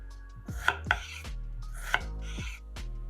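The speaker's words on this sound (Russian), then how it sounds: "Половинки помидора нарезаем пластинками." A knife cuts tomato halves into slices on a board, giving several crisp chopping knocks spaced unevenly over a few seconds, close and clear with no talking.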